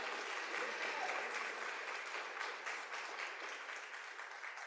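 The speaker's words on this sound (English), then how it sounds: "Big round of applause for these folks." Applause from a conference audience at a state association leadership meeting: dense, continuous clapping from many hands that fills nearly five seconds and eases off only slightly toward the end.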